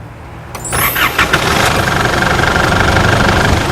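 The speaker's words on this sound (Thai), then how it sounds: "เอาสตาร์ทสตาร์ทรถครับ" A 2013 Isuzu MU-7 3.0 diesel SUV engine cranks and catches after a brief whine, then settles into a steady, rumbling idle close by.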